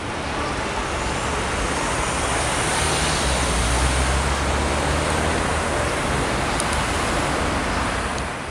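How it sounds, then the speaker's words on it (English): Steady roadway traffic passing straight through an intersection beside a pedestrian crossing point, a continuous loud wash of engine and tire noise with heavier low rumble from larger vehicles, no voices. "their cue to start crossing is when they hear at least one vehicle beside them going straight through the"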